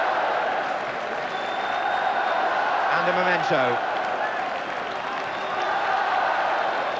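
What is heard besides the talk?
crowd cheering Scottish players at cup presentation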